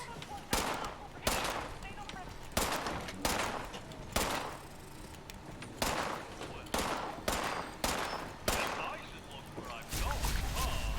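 Gunfire in the post-apocalyptic game Fallout 76 comes as a regular series of loud, sharp blasts about a second apart, each with a long ringing tail, continuing for the full length.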